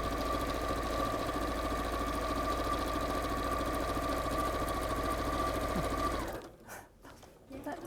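A sewing machine runs a seam in one steady mechanical whir for about six seconds, then stops, leaving quieter room sound.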